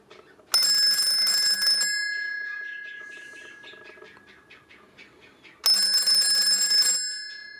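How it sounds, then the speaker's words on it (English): A harsh, high-pitched electric buzzing from an old PMG telephone buzzer bursts on for about a second, stops, then sounds again a few seconds later, with faint background noise between. "That's the buzzer."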